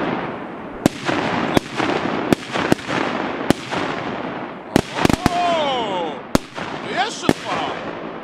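Sharp bangs from strong Scream 10s firecrackers pop repeatedly, some close together, with whistling crackles in between and a voice calling out underneath.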